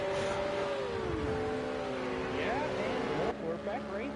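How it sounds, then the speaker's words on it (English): GT3 racing cars in a video game at Spa-Francorchamps, a steady layered engine drone with pitch sweeps as cars shift and rev, loud and continuous throughout, with a brief dip near the end. "I suddenly hear the cars are a lot louder than they were a minute ago"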